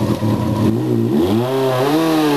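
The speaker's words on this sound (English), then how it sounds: "It's a burnout. Go on, spin it up." A Kawasaki ZX6R sport bike revs hard indoors during a burnout, its engine note climbing and falling in sweeping rises, loud and close throughout with no talk.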